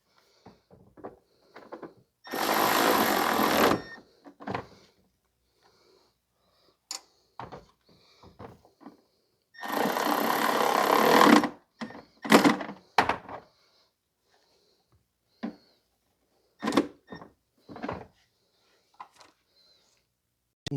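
Bolts being tightened during timing belt service on a 2009 Subaru Impreza with a 2.5 SOHC EJ253 engine: two loud, sustained ratcheting bursts about seven seconds apart, with scattered clicks and knocks from tools and parts in between.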